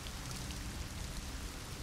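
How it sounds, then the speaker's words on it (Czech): Rain falling in the video game The Elder Scrolls Online, a dense, even wash of steady pattering that fills the whole moment without breaks, soft and low in level. "Tady prší."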